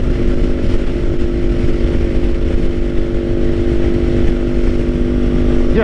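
A 2024 Kawasaki Ninja 500 KRT SE being ridden, its engine droning steadily and loudly at close range with a constant hum and wind rush throughout.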